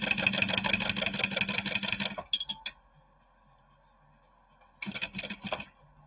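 Sewing machine stitching a quarter-inch seam on a small bowler hat: a fast, steady mechanical whir for about two seconds, a brief stop, then another short burst of stitching near the end.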